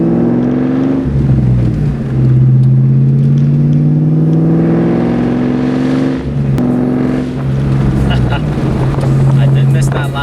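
Loud Ford Mustang Cobra 4.6 four-valve V8 breathing through a Borla exhaust, revving up and down in slow sweeping pulls with a deep throaty drone throughout.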